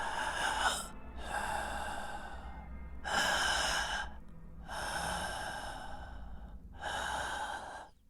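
Heavy, slow breathing up close: four long, loud breaths with short pauses between, like labored inhales and exhales.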